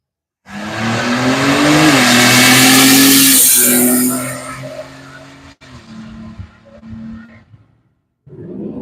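An all-wheel drive GMC Typhoon launches at a drag strip, its engine roaring loud and close as it climbs through the gears with audible shifts, then fades into the distance before another engine starts up.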